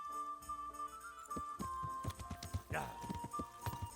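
Horse hooves clip-clop at a steady trotting rhythm while riding in Kingdom Come Deliverance, close and clear, with sustained musical tones and a brief whinny-like sweep mixed in.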